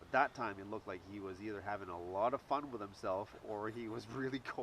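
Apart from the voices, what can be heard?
None of the usual background noises is heard.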